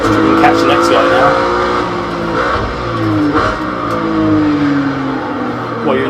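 A Group C racing car engine in the video game Project Cars 2 drones and revs with shifting pitch, rising and falling continuously, while someone talks over it.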